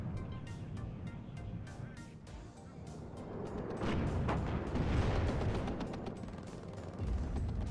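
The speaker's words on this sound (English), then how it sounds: "Lots of tanks firing at that poor M1 Abrams." Tank cannons firing at an M1 Abrams in the WARNO strategy video game, a dense rumbling battle mix of booms, mechanical clatter and vehicle noise that builds louder toward the middle and stays steady.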